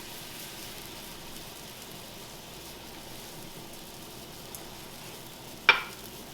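Fresh asparagus cooks uncovered in a pan on a stovetop, giving a steady, soft sizzling hiss throughout, with one sharp click near the end.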